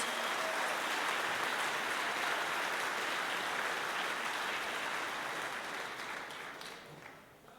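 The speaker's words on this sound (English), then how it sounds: "how about one more round of applause for our 2022-23 CIF champions?" An audience at an athletic hall of fame ceremony applauds CIF champions, the dense clapping strong and steady before fading out near the end.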